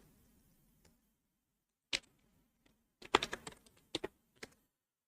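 Someone types on a computer keyboard, producing sparse, faint keystroke clicks close by, with a few isolated taps and then a short cluster of quick strokes in an otherwise quiet room. No one speaks.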